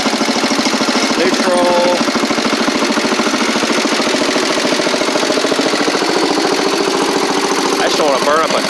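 Small engine of a classic Cub Cadet 70 garden tractor running at raised throttle, a steady rapid chugging drone filling the clip from start to end, with a person talking over it.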